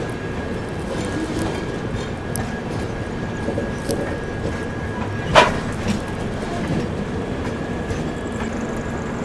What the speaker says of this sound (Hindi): बैक टू बैक आप देखिए गाड़ियाँ छूट रही हैं।